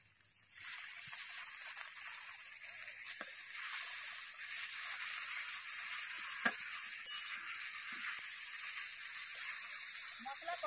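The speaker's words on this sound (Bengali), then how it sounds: "অল্প একটু জল দিয়ে দেব।" Spice masala for a hilsa, potato and eggplant curry hisses in the pan as a little water is added, with a steady bright sizzle and occasional stirring clinks throughout.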